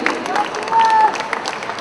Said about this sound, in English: An encouraging round of applause for him